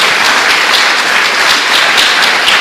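Congregation applauding Jesus in a church service, a dense, steady wash of clapping that fills the whole short stretch at close range with no talk over it.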